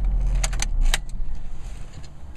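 Keys jangle on a 2013 Scion FR-S key fob: a few bright metallic clinks bunched in the first second, over a low steady rumble close by.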